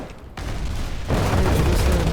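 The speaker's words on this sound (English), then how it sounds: "Oh, that's a storm cannon!" A storm cannon fires in a naval battle video game, a dense rumbling roar of gunfire that swells louder partway through, steady and booming with no pauses.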